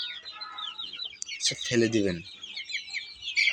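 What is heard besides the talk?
chickens clucking on a farm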